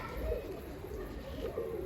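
Pigeons coo softly in a Turkish pigeon loft, low murmuring calls that are faint and somewhat distant over quiet background noise.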